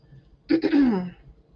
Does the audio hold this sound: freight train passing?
no